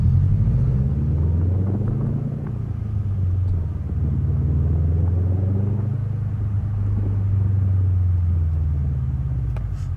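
A Subaru WRX STI with a Tomei exhaust rumbles steadily from inside or near the car, with a deep, throaty burble that rises and eases slightly as the engine holds in a low gear.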